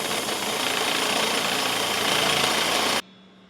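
A drill bores a hole out to 5/8 inch on a Silverado/Sierra L5P traction bar install, a loud, steady grinding whine up close for about three seconds before it cuts off abruptly.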